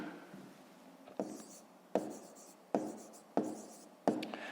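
Pen writing math answers on paper in a Grade 5 math lesson, with a series of quick scratchy strokes in short bursts, about five firm taps and scribbles, close and quiet.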